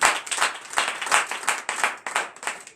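A congregation clapping in acclamation during a night deliverance and prophecy service; steady, rhythmic group clapping in quick beats, fairly distant and even throughout.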